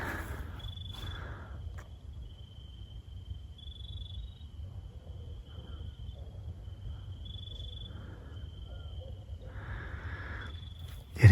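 Crickets chirp at night on a dark hillside, a faint, steady high-pitched trill running continuously beneath low background rumble and scattered brief rustles, with no talking.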